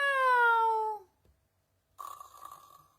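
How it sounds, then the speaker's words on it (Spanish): A cat meows in a children's bedtime story: a clear, drawn-out call that slides downward, then after a second of silence a rougher, noisier second meow, close and alone. "Y entonces Gato hizo miau."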